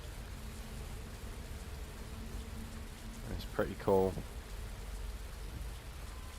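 Rain on the bus windows in Fernbus Simulator, a constant soft hiss under the cabin hum, with someone speaking briefly over it partway through.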